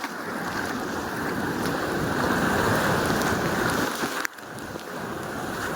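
River rapids rush in a loud, steady roar of churning water, broad and continuous, with a brief sharp knock and a short drop in the flow near the end.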